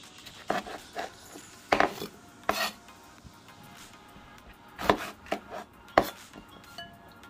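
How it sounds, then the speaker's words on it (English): A knife chopping scotch bonnet peppers on a board for a Jamaican jerk marinade, giving scattered sharp chops and thuds with some scraping between them, close up with no talking. "You want to get all of your peppers cut up, just like what I'm doing."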